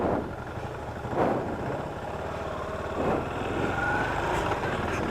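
A Yamaha 400 motorcycle cruises through a New Jersey neighborhood, its low engine rumble mixed with steady wind noise and a few brief louder swells, moderately quiet and with no voices.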